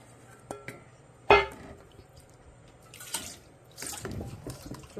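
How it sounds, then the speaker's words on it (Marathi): Water splashes into a pan of Goan chicken xacuti curry with a sharp pour and gurgle, followed by quieter intermittent stirring and liquid sloshing. "थोडं पाणी घालते"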